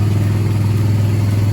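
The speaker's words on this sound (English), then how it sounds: "Why is your car so loud?" An antique car engine at Kings Mills Antique Autos in Kings Island runs loud and close, a steady deep drone with a rough, pulsing throb and no change in pitch.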